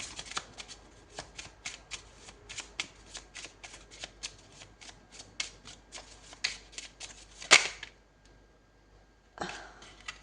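Tarot cards are shuffled by hand nearby, a steady crisp patter of riffling cards that swells into one louder flourish, falls quiet briefly, then starts again.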